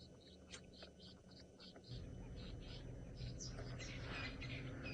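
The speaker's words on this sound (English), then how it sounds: "Can you hear the birds shouting now?" Several birds on an African safari drive call out sharply and repeatedly in agitated alarm near a lion pride, chattering over a low outdoor rumble, with the calls growing busier toward the end.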